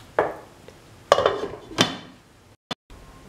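Metal clatter from a cooking pot of bottle gourd tomato stew, several separate clinks and knocks as the lid goes on, fairly close, ending with a short sharp tap.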